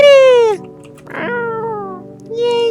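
A cat gives loud, close, drawn-out meows, one long cry, a pause with a brief rustle, then another falling meow and a shorter one at the end.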